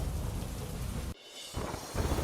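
Heavy monsoon downpour in Naguna village, Jamnagar district, Gujarat: a dense, steady roar of rain with deep thunder rumbling beneath it, briefly dropping away before the torrent resumes at full strength.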